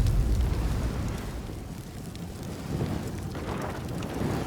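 A Wall of Fire spell cast in Baldur's Gate 3 roars as a dense, steady crackling rush, loudest at the start and sustained throughout with a fiery, rumbling texture.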